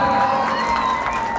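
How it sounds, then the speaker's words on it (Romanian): Wedding guests clap and cheer for the newlyweds, a dense, steady wash of applause with crowd voices filling the room throughout. "Multe aplauze!"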